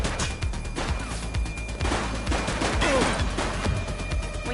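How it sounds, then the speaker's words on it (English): Heavy exchange of gunfire in the police game The Precinct, rapid overlapping shots and sharp impacts rattling on steadily for several seconds at close range. "Shots fired!"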